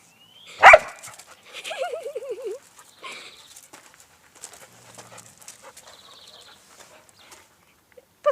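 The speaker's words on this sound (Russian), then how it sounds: "А это моя собака Рекс." A pet dog at home gives one sharp close bark, then whines and pants softly with scattered small rustles and short pauses.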